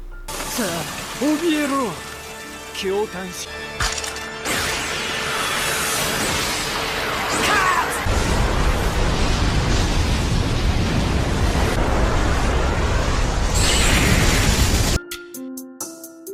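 Anime explosion from Deidara's self-destruct bomb in Naruto, a huge roaring blast with a sustained rumbling wash of noise, following earlier dialogue and effects, then cutting off abruptly.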